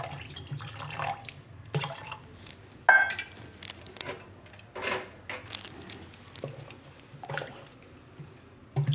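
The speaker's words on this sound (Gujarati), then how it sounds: "આમાં આપણે હજી પાણી નાખીશું." Water is poured into a kitchen mixture for making paan sharbat, a traditional Gujarati sweet drink, with splashing and dripping in uneven bursts at moderate volume and no one talking.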